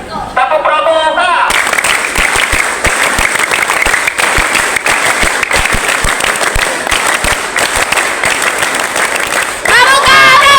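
Schoolchildren on a trip to the Monas national monument museum in Jakarta perform the rhythmic Indonesian scout clap, loud repeated group claps in a steady pattern for about eight seconds, with a voice talking at the start and end.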